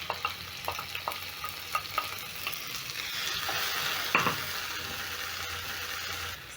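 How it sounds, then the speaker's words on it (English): Two diced tomatoes go into browning onions in a pan and are stirred in, with a few light spoon taps at first, then a steady, rising sizzle and one louder scrape near the end. "Stir in the tomatoes"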